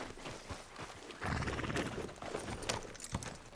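Horse hooves clip-clopping in Red Dead Redemption 2, a steady walking rhythm of hoof falls over an outdoor ambience, with no talk.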